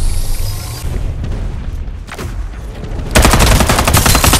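Rapid gunfire in the shooter Farlight 84, a steady rumble of shots that swells into a loud, close, fast-rattling automatic burst over the final second.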